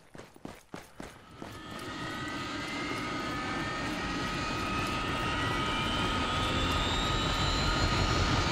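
Helicopter engine spooling up in the Arma military video game, opening with a few quick thumps before a rising whine and rotor roar build into a loud, steady drone that keeps climbing in pitch.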